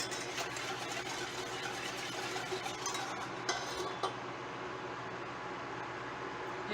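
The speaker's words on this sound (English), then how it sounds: "I'm going to continue to stir this just a little bit." Oatmeal cake mixture being stirred in a pot on the stove: a steady, soft swishing and scraping under a constant broadband hiss and hum, with a couple of slightly sharper knocks near the middle and no talking.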